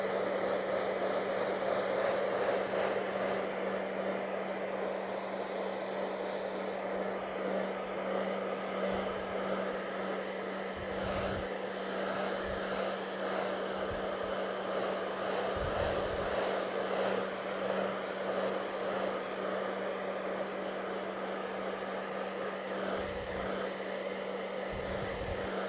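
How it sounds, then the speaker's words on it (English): An air blower runs continuously as it dries moisture from a wet painting of a sky, a steady close hiss with a few soft low thumps scattered through it and nobody speaking. "I have the blower. Take out some of the moisture."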